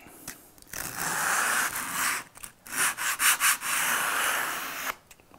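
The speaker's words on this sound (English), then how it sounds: "I'll probably just do it with sandpaper." Sandpaper wrapped around a hard block sanding a chamfer on a wooden dovetailed drawer, with long steady rasping strokes, then a run of short quick rubs, close and loud.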